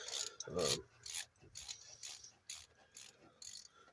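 Metal wrench clicks and rasps in short bursts while tightening a wheel bearing nut during a wheel bearing repair, with louder grinding around the first second and quieter intermittent scraping after.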